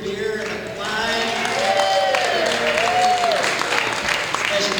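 Crowd applause at a Turkey Trot running event celebration, a broad wash of clapping that swells after the first second and continues steadily, with a voice calling out over it.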